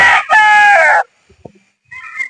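A newly arrived gamefowl broodstag rooster crows once, loud and close, in a harmonic call lasting about a second. Quiet follows, then a fainter bird call near the end.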